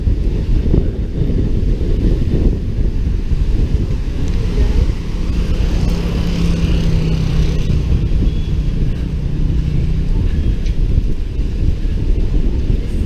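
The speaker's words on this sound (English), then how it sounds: "It's still windy." Strong typhoon wind from Typhoon Ulysses in Alaminos buffets the microphone throughout, a loud continuous rumbling roar with a hissing rush layered on top.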